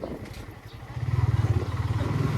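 A superbike motorcycle rides close by on a rough mountain road in Mustang, its engine pulsing in a steady low rhythmic throb that swells louder after a brief quieter start.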